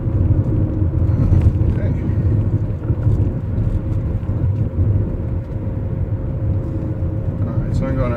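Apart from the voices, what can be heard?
BMW E39 EV conversion with Prius inverter driving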